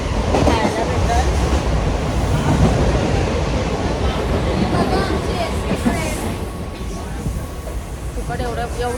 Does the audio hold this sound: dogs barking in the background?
no